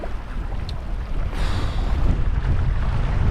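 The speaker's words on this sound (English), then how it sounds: "It's windy, sorry about that" Gusty wind buffeting a microphone on a fishing boat at sea off Bermuda, a rough continuous roar that swells louder partway through, with no talk.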